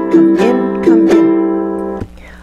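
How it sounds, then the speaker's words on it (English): Ukulele played with the chalang-a-lang or come-in strum, bright chords rung close and clear in a rhythmic pattern of quick strokes and sustained ringing, heard alone. "My arrangement for He's a Jolly Good Fellow uses the chalang-a-lang, aka come in strum for ukulele"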